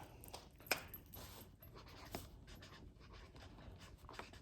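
Pencil scratching on paper at close range, short irregular strokes with a small tap early on, no talking.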